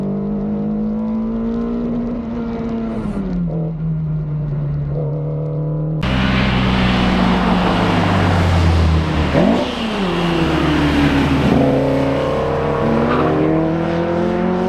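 A Ferrari Dino replica race car called Jura laps Snetterton circuit, its engine droning steadily, then rising and falling through gear changes as it passes close and loud, with a brief tire squeal.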